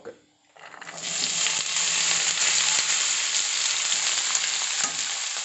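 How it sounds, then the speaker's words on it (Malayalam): Green beans hitting a hot pan of popped mustard seeds, breaking into a loud, steady sizzle that holds close and continuous after a brief quiet start, for a Kerala-style bean and carrot thoran. "കടുക് കൂട്ടി ഇനി ബീൻസ് എടുത്തെങ്കിൽ ഇടട്ടെ"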